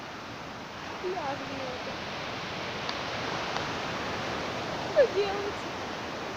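Strong sea waves wash against a shore where the beach has been washed away, a steady broadband roar of surf running throughout while someone speaks over it.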